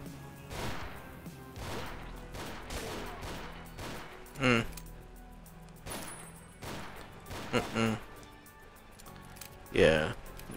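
Slug rounds are fired in the GZDoom mod Ashes 2063, with repeated loud shotgun-like blasts at irregular intervals over game music and ambience.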